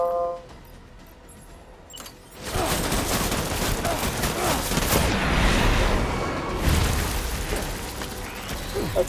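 Heavy volleys of gunfire break out after a quiet start, a dense continuous barrage of shots and blasts that stays loud to the end, with little talk.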